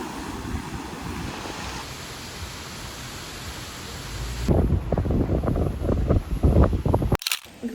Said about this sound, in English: We're at Hamoa Beach.